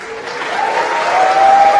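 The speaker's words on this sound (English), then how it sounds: "So the cheering that you see has been confirmation of the boost back burn has begun" Cheering and applause from a SpaceX launch control room at confirmation of the booster's boost back burn, a steady rising wash of clapping and whoops that grows louder toward the end.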